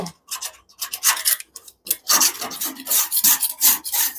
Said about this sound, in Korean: 완전히 긁어야 돼요